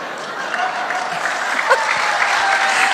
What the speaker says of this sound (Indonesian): Nggak usah tepuk tangan, nggak penting.